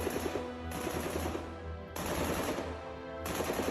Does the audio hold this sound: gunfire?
yes